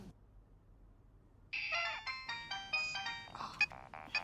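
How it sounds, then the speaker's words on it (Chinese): A mobile phone ringtone suddenly breaks the near-silence of an office meeting, playing a bright, repeating melodic chime loudly and close by until the end. "别总是开会的时候这个手机此起彼伏的响"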